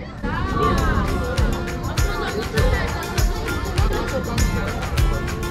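A crowd murmurs and chatters outdoors in front of the White House in Washington DC, a steady babble with hurried footsteps and scattered voices close by.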